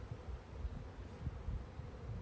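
Honey bee drones buzz slowly around an open spring hive during an inspection, a low, steady droning hum with soft irregular swells as large bees cruise nearby, fairly faint and with no talk.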